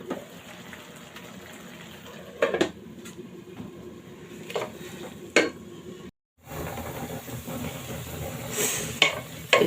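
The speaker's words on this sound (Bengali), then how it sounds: "তার জন্য আমি কাঁচামরিচ পেঁয়াজ ভেজে নিচ্ছি" Green chillies and onion frying in oil in a pan give a steady low sizzle throughout, with a few sharp clinks of a utensil stirring against the pot and a brief gap before the frying resumes, slightly louder.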